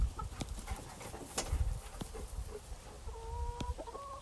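A rooster clucks repeatedly outdoors, then gives a drawn-out, strained crow near the end, over soft background rustle and noise with no talking.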